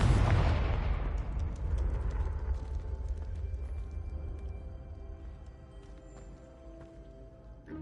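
A Confringo blasting-curse explosion in Hogwarts Legacy, a loud low boom at the start decaying into a long rumbling tail with faint scattered debris and ambient game sounds.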